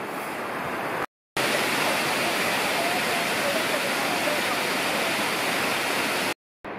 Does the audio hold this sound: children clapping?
no